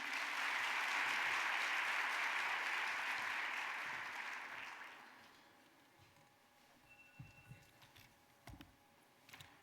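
A crowd applauds loudly for about five seconds, then the clapping fades out, leaving faint scattered clicks and room noise.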